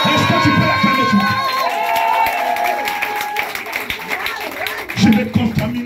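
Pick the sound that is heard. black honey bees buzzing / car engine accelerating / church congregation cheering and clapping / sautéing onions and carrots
church congregation cheering and clapping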